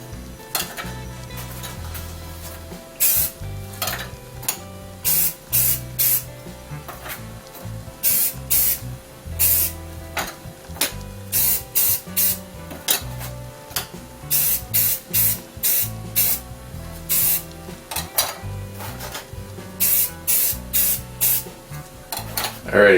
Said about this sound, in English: So first things first, I just hit them with some primer.